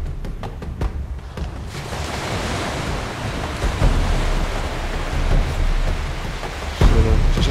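Surf and gusting wind fill Tor Bay Beach on the Gower coast with a loud, continuous roar and rumble, and heavier wind buffets hit the microphone throughout.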